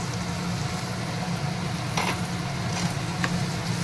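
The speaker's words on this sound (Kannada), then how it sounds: "ಇದು ಸ್ವಲ್ಪ ಕಂದು ಬಣ್ಣ ಬರೋ ತನಕ ನೀಟಾಗಿ ಫ್ರೈ ಮಾಡ್ಕೋಬೇಕು ಈರುಳ್ಳಿನ" Chopped onion frying in a pan with ginger, garlic and chilli for dhaba-style paneer bhurji, giving a steady close hiss with a low hum beneath and a few faint scrapes of stirring, no talking.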